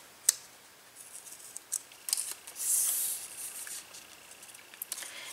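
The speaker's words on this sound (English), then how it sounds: "Let me just cut this so it looks nice." Scissors cut paper for a planner in several short, crisp snips with one longer sliding cut in the middle, close and fairly quiet against a silent background.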